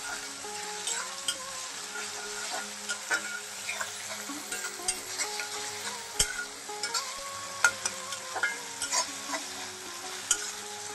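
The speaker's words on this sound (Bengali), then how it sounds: "এখন টমেটো কুচিটা দিয়ে দেবো। এখন ভালো করে কষিয়ে নেব।" Chopped onion and tomato sautéing in a pan, with a steady sizzle and repeated clinks and scrapes of a spoon stirring against the metal, close and continuous with no talking.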